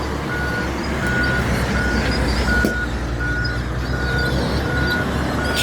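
A truck backing up at a trash dump gives a steady series of evenly spaced, loud reversal beeps over a constant diesel engine rumble, with no talking.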